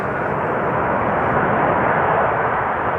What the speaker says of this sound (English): the next plane is almost ready to land